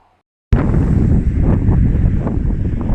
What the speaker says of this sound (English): the weather's getting quite blustery, quite windy